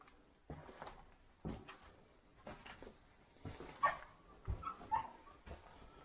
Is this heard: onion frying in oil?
no